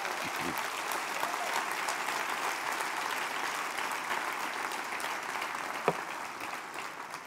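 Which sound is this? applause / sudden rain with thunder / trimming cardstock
applause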